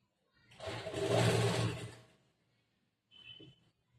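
Sewing machine stitching a langa skirt, one steady burst of whirring about a second and a half long, then a brief softer run after a pause; no talking.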